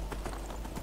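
Horse hooves gallop in the video game Skyrim, a fast, steady clip-clop rhythm of close, dull thuds over a low rumble.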